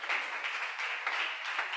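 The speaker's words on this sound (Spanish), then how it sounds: "Un aplauso con libertad" A church congregation applauding during an evangelistic service, a short burst of dense, steady clapping heard at a moderate distance with no talk over it.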